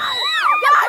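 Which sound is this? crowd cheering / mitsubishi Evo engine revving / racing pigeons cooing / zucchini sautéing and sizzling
crowd cheering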